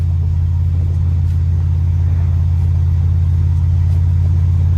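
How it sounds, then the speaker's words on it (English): A Ford Mustang engine rumbles steadily while cruising, a deep continuous low drone holding an even pitch throughout with no revving, close and fairly loud. "right now I'm just kind of trying to simulate driving the car, cruising around"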